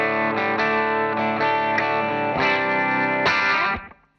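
Distorted electric guitar played through a Line 6 AMPLIFi practice amp on a British-style amp model, ringing chords struck in a steady rhythm and sustained, loud and close, then cut off at the end.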